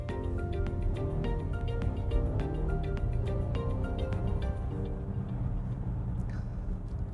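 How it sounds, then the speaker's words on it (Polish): A Volvo hybrid city car with 455 horsepower running on its combustion engine while accelerating, heard as a steady low engine rumble from inside the cabin with faint rattles and no talk. "uruchomił nam silnik spalinowy i zaraz zobaczymy, co potrafi auto miejskie z mocą 455 koni."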